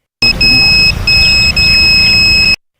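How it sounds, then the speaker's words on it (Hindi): Proximity alarm on a student-made social distancing chip device, a loud, piercing electronic beep sounding in long steady tones with a couple of brief breaks, close up over background noise. "जैसे ही कोई करीब आता है, चिप के साथ जुड़ा अलार्म अपने आप बजने लगता है"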